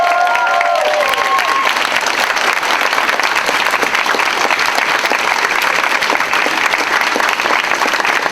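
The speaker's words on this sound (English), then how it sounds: "Let's have a round of applause just for Claire," A festival crowd at the Jamchester 2017 judging and awards gives the organizer a round of applause: loud, dense, sustained clapping fills the whole stretch, with a few brief tonal notes near the start.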